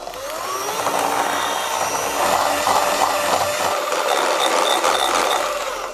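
An electric mixer creams butter, sugar, salt and vanilla into cookie dough, giving a steady, fairly loud motor whir with faint rattling and scraping in the bowl. The sound fades in and runs unbroken for several seconds, without talk.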